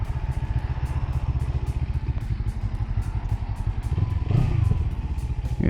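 A beginner motorcycle's engine idles close by on a cold day, a steady, rapid, pulsing putter with even beats and a slight throttle blip near the end.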